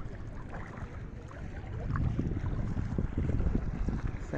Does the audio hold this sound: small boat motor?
yes